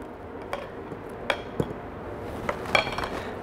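Mushroom cream sauce stirred into blanched spinach and fried onion in a pan, with a few sharp utensil clinks and scrapes against the pan spaced over a few seconds, moderately close and fairly quiet.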